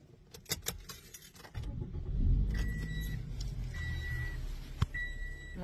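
A car starts and backs up at close range after keys jangle, then a steady low engine idle with faint reversing beeps repeating at intervals, no talk.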